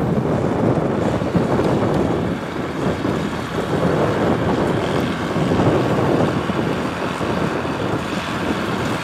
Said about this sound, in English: So it's very, very windy again